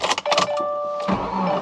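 A 2017 car with 135 thousand miles starts up, with a few quick cranking bursts and then a steady mid-pitched engine idle as it begins warming up, fairly close and alone.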